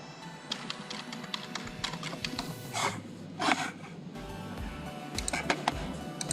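Fingers tap out a password on a computer keyboard, a quick irregular run of soft clicks with a couple of louder key strikes, close and quiet with no talking.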